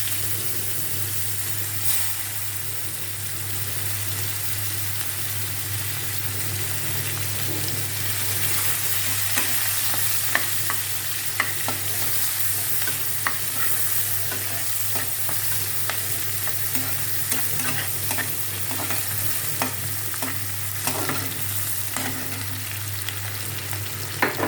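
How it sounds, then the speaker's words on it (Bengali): Onions sizzle in the hot oil left from frying fish in a home kitchen pan, a loud, steady crackling hiss with intermittent scraping stir strokes and no talking. "ওই তেলে পেঁয়াজ দেবো।"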